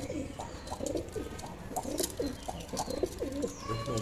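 A caged pair of pigeons coos steadily, soft repeated throaty calls rolling one after another across the whole stretch with a little background hiss.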